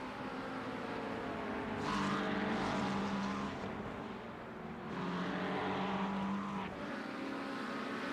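Ferrari race car engines screaming down the main straight at Road Atlanta in a sim racing endurance event, with a loud, steady drone whose pitch climbs and then dips as gears change, and no voices.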